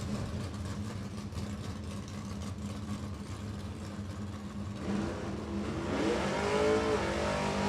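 An automatic Camaro stock car idles at an NHRA drag race at Thunder Valley Motorsports Park, a steady loping rumble that swells louder near the end as the engine revs up and climbs in pitch.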